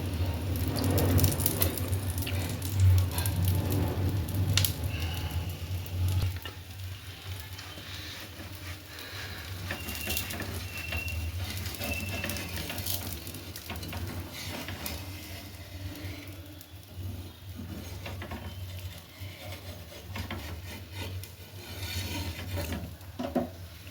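A dosa frying on a pan with a little ghee gives off a steady, low hiss, with rasping scrapes now and then across the surface. It stays moderately loud and constant throughout, with no talking.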